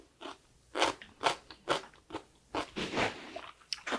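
Crunchy radish from dongchimi (Korean radish water kimchi), made with winter radish, is bitten and chewed close up in repeated loud crisp crunches, about eight bites at a steady rhythm with no talking.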